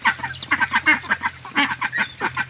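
Domestic ducks and chickens at a home call close by with a run of repeated nasal quacks and honking squawks in quick bursts, loud and busy.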